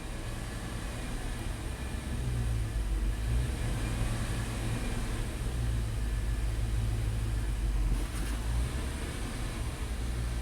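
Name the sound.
Dodge truck engine idling erratically with elevated idle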